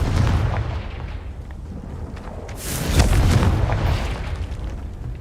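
A Confringo fire spell explodes in the Hogwarts Legacy video game, giving a deep rumbling boom that swells midway and then fades, with no voices over it.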